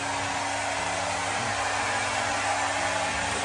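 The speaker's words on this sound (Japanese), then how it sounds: "なにまだやるのドライヤー" A hair dryer blows steadily on a Pomeranian after its bath, a loud, continuous broadband whoosh with a constant high whine that holds unchanged throughout.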